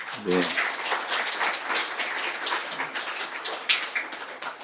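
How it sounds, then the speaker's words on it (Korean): Warm applause from a church congregation during a Sunday worship service, a dense continuous patter of many hands that fills the room from start to finish, with a brief voice at the very beginning. "아주 뜨거운 박수로"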